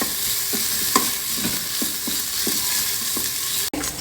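Chopped onion is stir-fried in a Solara Magic Pot, a constant sizzle with regular spatula strokes and scrapes roughly every half second, close and fairly loud, with no talking.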